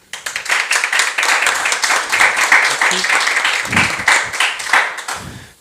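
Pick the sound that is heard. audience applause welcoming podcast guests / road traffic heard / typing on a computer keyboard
audience applause welcoming podcast guests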